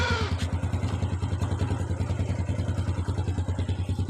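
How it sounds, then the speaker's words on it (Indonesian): An original Honda Supra Fit motorcycle, 19 years old, idles with its engine running close by in a steady, even, low putter, its regular pulses continuing throughout at moderate loudness. "Ini kita sepilkan mesinnya."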